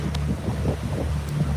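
Steady low engine drone of a boat cruising off San Diego, overlaid with constant buffeting wind noise on the microphone, a continuous loud rumble with no voices.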